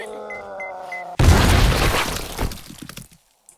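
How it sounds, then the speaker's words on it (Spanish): A demolisher zombie blowing up in the 7 Days to Die game, a sudden loud boom with shattering debris cutting off a droning tone, then a crackling tail that dies away into silence. "¡Vaya mierda de explosión, tú!"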